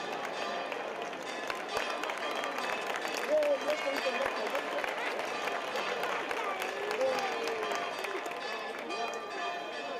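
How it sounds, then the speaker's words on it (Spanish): A crowd applauds at an outdoor equestrian show in Cadreita, with dense, steady clapping that carries through the full stretch at an even level. "Y un fuerte aplauso también para los caballeros."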